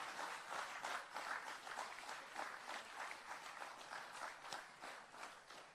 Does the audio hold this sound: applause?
yes